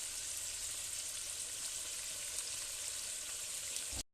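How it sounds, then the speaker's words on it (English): Lamb chops chutney simmering in a pan gives a steady, even sizzling hiss, close and continuous for about four seconds before cutting off abruptly, with no voices. "We're actually done and we're letting the food simmer."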